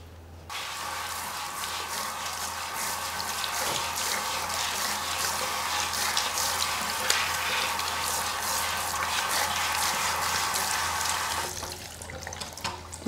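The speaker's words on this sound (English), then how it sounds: "You want to be very gentle when you're washing the lace." Running tap water pours steadily into a sink while a lace hair system is gently washed, a continuous hissing splash for about eleven seconds that cuts off near the end, with no talking.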